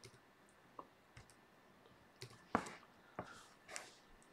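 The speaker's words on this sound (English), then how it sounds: "So I just type that PIN number in." A PIN is keyed into a laptop keyboard: about half a dozen soft, separate key clicks at uneven intervals in a quiet room, with no voices.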